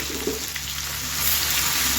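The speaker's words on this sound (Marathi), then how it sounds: "आता आपण ना जिरे मोहरीची फोडणी देऊया" Steady, loud sizzling of cumin and mustard seeds crackling in hot oil, close up and continuous, with no talking.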